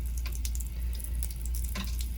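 Water runs from an RV shower line into a toilet, a steady hiss of flow with a low rushing rumble and scattered splashes, close and continuous with no talking.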